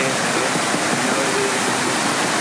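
Rushing water, probably a waterfall or stream outdoors near Seattle, roars as a loud, steady broadband wash, with a voice faintly audible beneath it.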